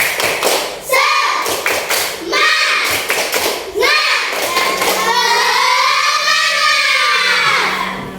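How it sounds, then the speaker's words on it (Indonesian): Primary school class of third graders in Indonesia doing the rhythmic 'tepuk semangat' clapping chant, sharp claps in bursts with children's voices chanting loudly in a classroom. "Jadi kita tepuk semangat dulu ya, tepuk semangat."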